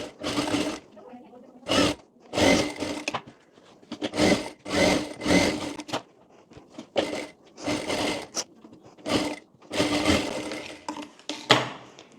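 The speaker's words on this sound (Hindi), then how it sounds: "तो यहाँ पर हम अस्तर वाला फैब्रिक इस पर इस तरह से रख कर यहाँ पर सिलाई कर लेंगे।" A sewing machine stitches lining fabric onto a blouse sleeve, its whirring running in short repeated bursts separated by pauses, fairly close, with a voice speaking between and over the runs.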